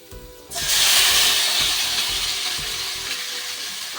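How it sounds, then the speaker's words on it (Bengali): Chopped tomatoes drop into hot oil with fried spices for a tomato chutney, bursting into a loud sizzle after a quiet moment, then a sustained frying hiss with faint stirring knocks. "ফোড়নগুলো ভাজা হয়ে গেলে এবার কেটে রাখা টমেটোটা আমি দিয়ে দিলাম"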